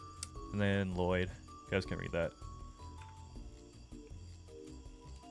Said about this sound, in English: Y'all hear the cicada in the background?